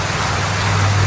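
Rain keeps falling over farm fields at the start of ploughing season, a continuous close wash of drops with a low hum underneath.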